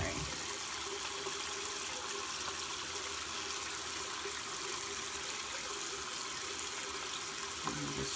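A makeup brush swirled under a running tap, a steady, even rush of water that carries on unbroken the whole time.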